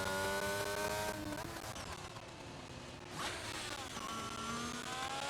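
A race car engine at Circuit of the Americas drones steadily with shifting revs, a continuous mid-distance roar that dips and rises again as the car works around the track.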